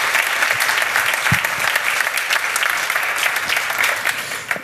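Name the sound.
audience applause for Laurent Deron and his project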